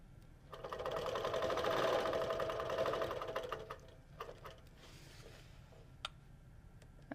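A sewing machine stitches fabric along a curvy ruler, giving a close, steady mechanical whir for a few seconds that then stops, followed by a few light clicks and taps.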